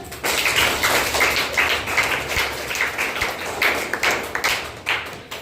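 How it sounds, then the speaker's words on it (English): Children in a classroom applaud a classmate with a steady burst of clapping that lasts throughout, dense and fairly loud, with no voices over it. "Clap for her."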